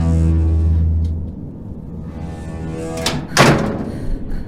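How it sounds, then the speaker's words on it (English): A door opens and shuts with one solid, close thunk partway through, preceded by a low steady hum in an otherwise quiet room. "I heard the door open and close again"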